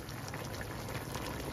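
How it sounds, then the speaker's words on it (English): Chicken for pastelles fries uncovered in a pot, giving a dense, steady sizzle and bubbling crackle that runs on without pause, close and moderately quiet. "the chicken is cooking and this has to cook down dry"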